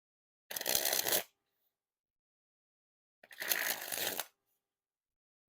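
Fulton's October v3 playing cards by Dan and Dave being sprung from hand to hand, two quick fluttering riffles of crisp card snaps, each about a second long and close, separated by silence.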